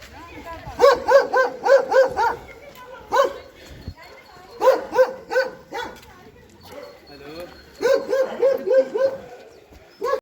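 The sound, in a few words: dogs barking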